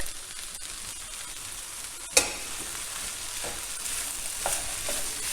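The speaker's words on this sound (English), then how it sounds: "I'm going to continue cooking this until the tomatoes have softened and the courgettes are cooked" Sliced courgettes and tomatoes fry in a pan with a steady broadband sizzle, broken by one sharp clatter of a utensil against the pan and a few softer stirring knocks, with no talking.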